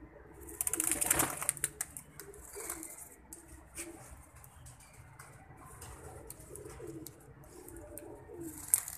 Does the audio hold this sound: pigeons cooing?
yes